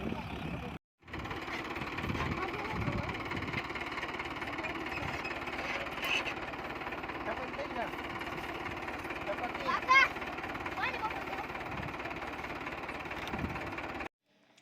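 A tractor engine runs with a steady, rapid mechanical chugging and vibration, loud and continuous after a brief cut at the start, then stopping near the end.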